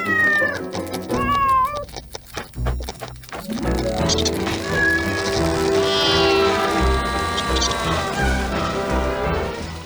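Cartoon cat meows repeatedly over a busy, loud soundtrack of music and effects, with rising and falling yowls clearly standing out near the start before blending into the continuous animated-show mix.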